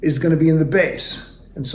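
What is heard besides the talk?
No everyday noises stand out.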